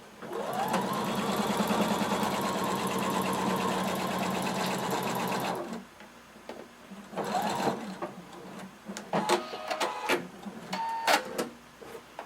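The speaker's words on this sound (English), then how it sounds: "You're going to sew the other shoulder the same way." A sewing machine runs one continuous, close stretch of stitching along a kimono shoulder seam, then stops, leaving quieter scattered handling noises and clicks.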